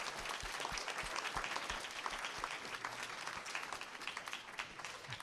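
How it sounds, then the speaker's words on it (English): An audience at a talk on psychoanalysis and poetry applauds steadily, a dense, moderately distant patter of many hands clapping throughout. "can we just have another round of applause for Hannah and Jameson?"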